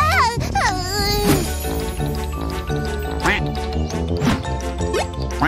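A cartoon duck quacks a few times early on, nasal and squeaky over lively background music.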